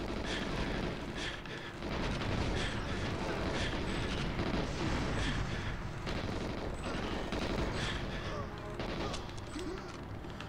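Gunfire and explosions in GoldenEye 007 HD Remaster: sustained, dense bursts of automatic gunfire and blasts that fill the whole stretch, loud and continuous, with a voice talking over them.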